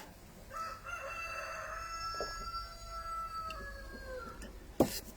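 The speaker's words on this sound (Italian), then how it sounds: "Si sente anche il gallo cantare" A rooster crows one long drawn-out call at middle distance in a quiet rural setting, followed by a brief sharp knock near the end.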